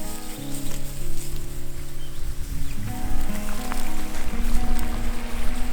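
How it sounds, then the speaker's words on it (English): Creek water running freely past a broken beaver dam, a steady gentle rush and trickle close by, with a low hum and faint rustling mixed in. "the creek runs freely, soothing our ears with a gentle sound of running water"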